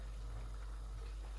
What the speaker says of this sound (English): it's boiling and the spinach, everything is melting